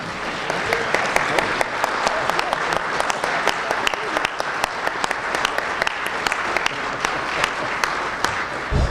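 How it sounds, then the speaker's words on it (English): A banquet audience at an Elks Lodge rises and applauds Alabama A&M University graduates and staff, producing sustained, dense clapping that fills the room evenly throughout with no break. "would you please stand and give them applause for what you're doing tonight"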